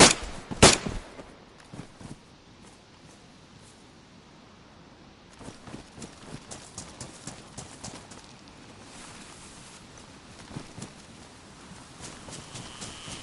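Two sharp, close gunshots ring out at the start in DayZ, followed by softer intermittent clicks and footstep-like taps.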